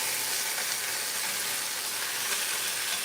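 Meat searing in a hot pan for a taco meal, a steady, close, loud sizzle of frying that holds without a break throughout, with no talking.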